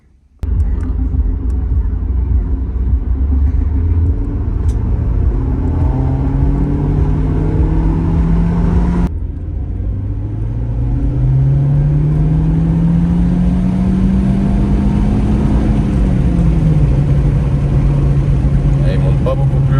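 Car engine rumbling steadily on a road test with a cheap AliExpress turbo boost gauge fitted, rising in pitch as it accelerates, dropping back after a brief gear change, then climbing again; close, continuous and loud, with no voices.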